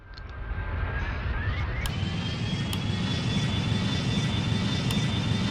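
An Airbus A320's jet engines roar during takeoff in a flight simulator: a loud, steady broadband rumble with a rising whine and occasional clicks, no talking.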